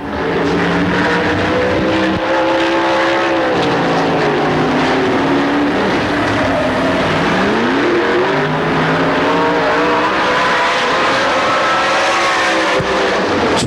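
A dirt track race car on a qualifying lap at a 1997 dirt track championship, loud engine roaring continuously with rising and falling pitch as it accelerates and decelerates around the track.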